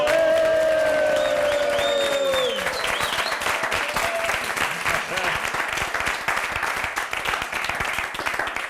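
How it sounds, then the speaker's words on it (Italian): A large studio audience bursts into loud, sustained applause at the start of an Italian variety show episode, dense clapping and crowd noise that continues steadily, with a presenter's voice and some tonal sound fading out in the opening seconds. "un grosso applauso!"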